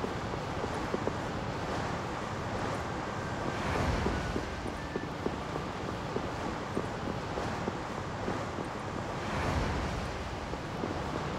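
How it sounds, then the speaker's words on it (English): Ocean waves roll and wash steadily in the Tales of Vesperia video game, a soft continuous surf with gentle swells and a windy hiss, with no voices over it. "Ocean waves."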